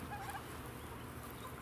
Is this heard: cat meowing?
no